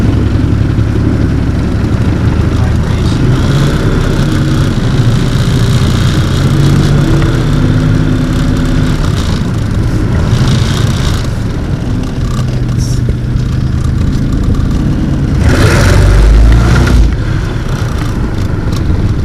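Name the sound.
car engine supercharger whine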